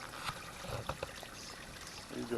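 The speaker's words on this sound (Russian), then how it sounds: "Идет вода у нас сюда." Water pumped through a hose into a homemade plastic pond trickles and pours quietly and continuously, with a few soft splashes.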